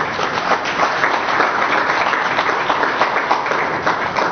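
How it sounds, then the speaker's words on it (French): Steady crowd applause at a fundraising gathering for soldiers at the front, even and sustained throughout with a dense patter of many hands and no pause. "Je vous demande d'applaudir."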